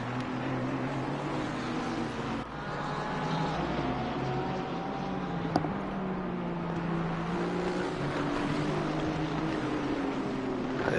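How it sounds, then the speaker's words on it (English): GT4 race car engines in Assetto Corsa Competizione drone steadily for the whole stretch, with layered engine tones that rise and fall as the cars run through a corner, loud and continuous, with no talk. "And Flores just has a better run through turn number 1, pulls away from the Ferrari driver."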